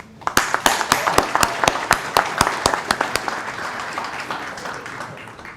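Audience at an employee recognition and awards ceremony claps for several seconds, with sharp, fairly rhythmic claps standing out over a lighter wash of applause that gradually tapers.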